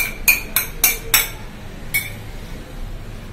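A spoon clinks sharply against a bowl as salad ingredients are tossed with grated coconut, four quick taps in a row, then a pause and one more, close and clear with no talk.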